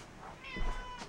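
A single cat meow, fairly close and moderately loud, rising then falling in pitch over about a second, with no talking.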